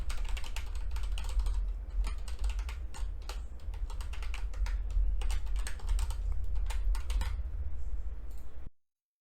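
Rapid typing on a computer keyboard to log in to an account, with steady clicking keystrokes at close range and no talk, then an abrupt stop.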